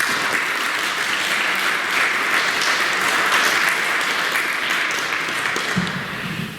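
Church congregation applauding steadily at a Catholic Mass, a dense, even wash of clapping held for several seconds before easing slightly at the end.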